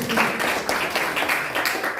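A classroom audience claps for a group presentation, a dense and fairly close burst of applause that holds steady for a moment.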